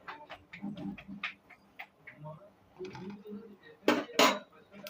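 Spoon scraping and clinking against a pot while chicken curry is stirred, a run of irregular metallic taps with two louder clanks near the end, and a voice speaking in between.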